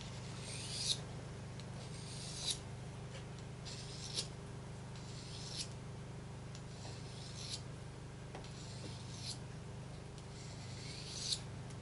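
Steady rasping strokes of a leatherworking knife blade being sharpened by hand, each stroke a soft scrape repeating every second or two, close and fairly quiet over a low background hum.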